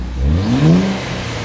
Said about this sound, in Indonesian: Kalau di knalpot standar ada deruman sedikit,